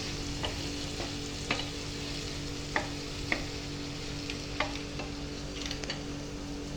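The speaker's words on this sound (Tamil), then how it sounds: "இப்போ நம்ம வந்து நல்லா வதக்க போகிறோம்" Chicken sizzles steadily in a hot pan while masala is sautéed, with a spatula scraping and stirring in sharp, irregular strokes over the constant frying hiss; no talking.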